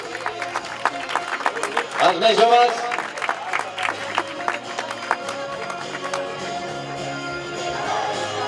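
Applause from spectators at a cyclists' hill-climb time trial during a village festival, honouring the young riders, with scattered claps and cheers under a Catalan announcer speaking over a PA.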